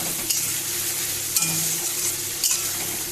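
Tangra fish fries with spices and salt in a pan, a steady close sizzle broken by a few sharp stirring scrapes and clinks, with no talking.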